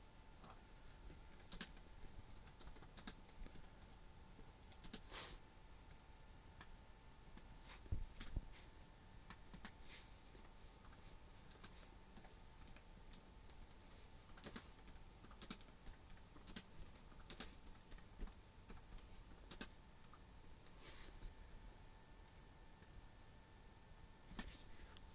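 Faint clicking keystrokes on a computer keyboard run in irregular bursts and pauses for around twenty-five seconds, quiet and close with a soft background hum and no talking.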